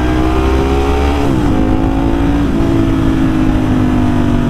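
A Ducati motorcycle engine, loud enough to only just pass a noise test, revs hard and steadily throughout, with a strong, continuous roar and a brief dip in pitch before climbing again.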